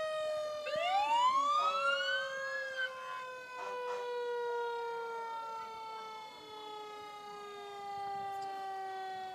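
A Tahlequah Fire Department fire truck siren at a Christmas parade, rising in a long mechanical wind-up wail and then holding a steady, slowly falling tone, loud and nearby with faint crowd noise beneath.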